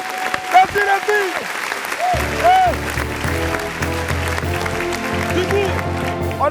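Audience applause at a live televised show, steady clapping throughout under music and a host's voice, with bright tones and a low beat running beneath.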